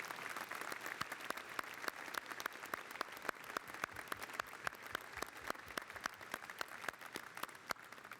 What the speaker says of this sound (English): give them a warm round of applause to thank them for getting you to this part of your life